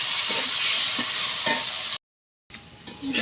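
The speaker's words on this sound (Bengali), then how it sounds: "তারপর ওই তেলের মধ্যেই সসুরি দিয়ে বাজি রান্না করি" Bitter gourd bhaji frying and being stirred in hot oil in a Bangladeshi village kitchen, a dense continuous sizzle with soft periodic scrapes, cut by a brief silent gap before the frying resumes.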